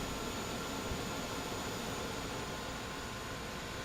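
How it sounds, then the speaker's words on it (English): An Airbus jet engine in Microsoft Flight Simulator gives a steady, loud, unbroken roar with a broad hiss throughout and no talking. "The sounds are very, very good on starting the engines. You hear it kick in all of a sudden."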